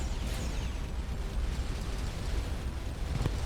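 An explosion in the space exploration game Starcom: Unknown Space: a sustained, rumbling blast with crackling noise spread evenly across the moment, moderately loud and alone without any talk.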